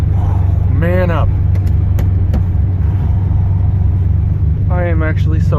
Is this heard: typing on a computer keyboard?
no